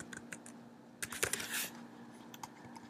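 Keys on a computer keyboard tapped in short irregular bursts, faint and close, with a slightly louder cluster of clacks partway through.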